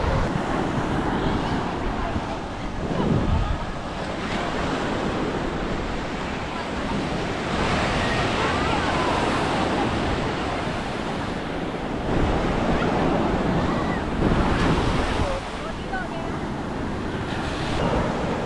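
Surf at Kala Pathar beach on Havelock Island in the Andamans rolls in steadily, with waves swelling and breaking in broad washes under strong wind buffeting the microphone.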